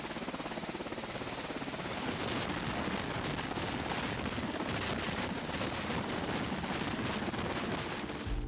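Helicopter rotor and engine noise on a ship deck during a landing or launch, a loud continuous wash with choppy rotor texture throughout, and no talk.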